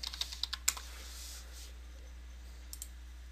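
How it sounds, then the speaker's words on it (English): A password is typed on a computer keyboard as a quick burst of half a dozen close key clicks, then near silence over a low hum, with two more faint taps later. "I'm going to type my password."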